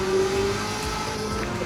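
Corvette ZR1 on racing tires in Gran Turismo 7, its engine droning steadily with a brief thin tire squeal early on as the car slides under aggressive driving, no voices over it.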